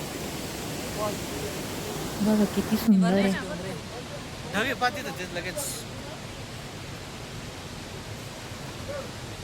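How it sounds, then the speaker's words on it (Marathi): A very tall waterfall on a hard mountain trek sends up a constant, loud, wide roar that fills the whole stretch, while a person talks briefly over it. "आणि या धबधब्याचा आवाज इतका आहे"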